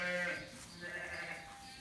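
Sheep bleat faintly inside a cattle shed where weaned ewes are housed, with a couple of drawn-out calls over a low background murmur.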